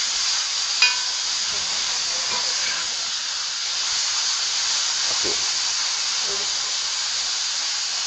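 Food frying in a pan on a home stove gives a steady, even sizzle and hiss throughout, with a few faint clicks and stirring noises over it.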